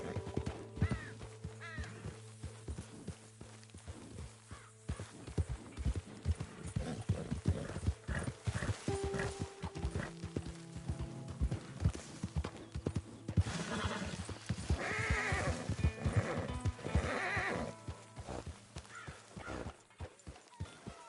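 Steady clip-clopping horse hooves with an occasional whinny in the video game Red Dead Redemption 2, mixed with background ambience and brief voices.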